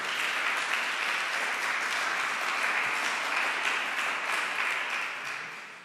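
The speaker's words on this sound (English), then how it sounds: "Please warm applause for Mazen Kerbaj." Sustained applause from a lecture audience greeting a comics artist, a dense steady wash of many hands that holds level for several seconds before beginning to taper near the end.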